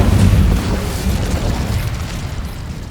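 An Incendio fire spell blast in the game Hogwarts Legacy, a loud, close booming whoosh that starts strong and slowly fades into a dense roaring rumble.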